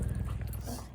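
A dog whimpers close by in a short, continuous burst of low, breathy whining, with no other sounds competing.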